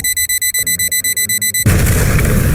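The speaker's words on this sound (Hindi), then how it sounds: "रोबोट कार में रेड अलार्म बजने लगता है" A cartoon robot car's red alarm beeps in a rapid, steady pulse, then a loud explosion blast cuts in and its roar fills the rest of the effect.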